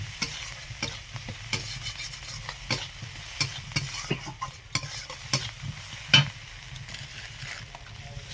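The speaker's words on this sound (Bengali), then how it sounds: "এবার সরষে বাটার জলটি দিয়ে দেবো" Steady sizzling and frying of a hilsa fish curry with eggplant as mustard paste water goes into the hot pan, with soft intermittent stirring clicks and a faint clink near the end.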